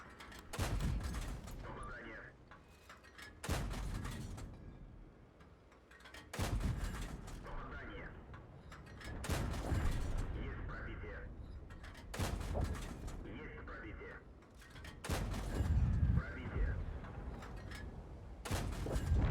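Tank gunfire in World of Tanks, heavy booming cannon shots repeating every few seconds, each with a rumbling decay, mixed with quieter game sounds and occasional talk.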